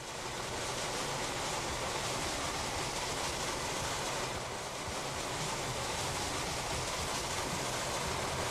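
A train runs in the Transport Fever 2 video game, giving a steady, dense broadband rumble and whoosh that holds evenly throughout with no voices.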